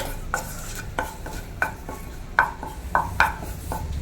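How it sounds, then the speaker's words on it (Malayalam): Dry curry leaves being stirred in a pan over a low flame, roasting for homemade sambar powder; a series of light scraping, clinking strokes arrive at an uneven rhythm, close and fairly quiet, with no voices. "ലോ ഫ്ലെയിമിൽ കിടന്ന് നല്ലപോലെ മുരിഞ്ഞ് വരുന്നിടം വരെ നമുക്കൊന്ന് ഇളക്കി കൊടുക്കാം."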